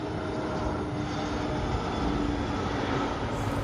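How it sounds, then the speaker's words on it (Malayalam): An airplane comes in to land close by, its engine producing a loud, steady broadband roar that fills the whole stretch without letting up, with no talk over it. "എന്തൊരു ഭംഗിയാണ് നോക്കി ആ വിമാനം ഒന്ന് ഇറങ്ങുന്നത്"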